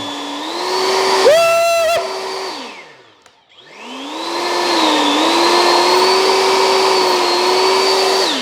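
A Nasum 40V cordless electric blower (YT7805-01) whines loudly and steadily, briefly jumps in pitch as it shifts to turbo, then winds down to near silence before spinning back up to a sustained high-speed roar, with no talking.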